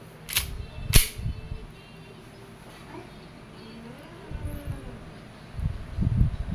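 A WE Airsoft I-REX airsoft gun fires two sharp, snappy semi-automatic shots close by with a short gap between them. Quieter handling noises and faint background sounds follow the shots.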